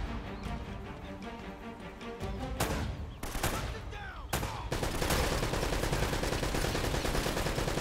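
Pistol gunfire in Uncharted: Drake's Fortune, several sharp shots spaced apart, followed by a dense stretch of continuous firing, with someone talking at times.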